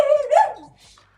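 A person imitates an angry dog, letting out a short, loud growling bark close by, followed by a fainter trailing whine.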